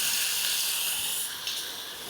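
Garlic dropped into hot oil in a pan for Thai rad na gives a steady, close hiss of frying that fades slightly near the end, with no talk over it.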